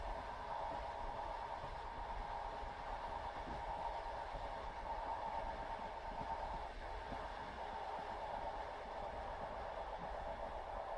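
A night train rolls steadily along the rails in winter, a soft continuous rumble and hum of the carriage with no distinct clacks, even and unbroken throughout.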